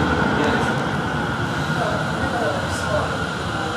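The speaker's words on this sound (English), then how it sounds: "And here it is, the very last U-Bahn train." The last U-Bahn train of the night arrives at Frankfurt Hauptbahnhof, a steady underground rumble and rolling hum filling the station with faint squeals above, continuous and fairly loud.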